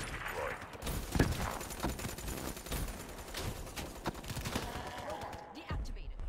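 A deployed automatic gun in a video game fires steady bursts throughout, with sharp cracks near the start. Ambient game sound sits underneath.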